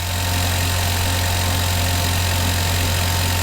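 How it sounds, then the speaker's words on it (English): A drag car engine just started and idling, checked for a noise, gives a loud, steady, deep rumbling drone with a constant low hum and no speech. "So I'll fire it up and see if you can hear what the noise is"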